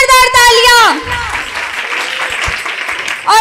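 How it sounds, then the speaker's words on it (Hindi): A congregation at a healing prayer gathering in Sheikhupura breaks into loud applause for a singer. Dense clapping fills the middle, with a sustained singing or speaking voice before it and again at the very end. "भाई के लिए जोरदार तालियां"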